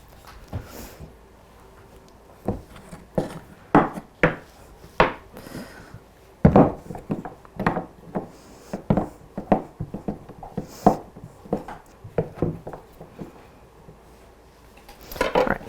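Knife slicing cold butter into small pieces on a cutting board for blueberry lemon sourdough scones, a steady series of close, crisp chopping taps on the board, some in quick runs, with no talking.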